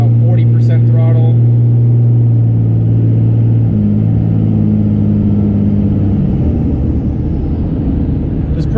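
A cold 2005 Cummins diesel truck engine held at roughly 40% throttle, a loud, steady low drone with a pitch shift partway through and settling lower near the end, close and continuous.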